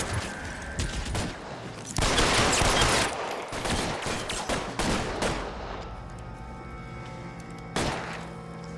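Bursts of video game gunfire, loud and close, with a sustained volley in the middle and scattered shots before and after, ending in a final sharp report.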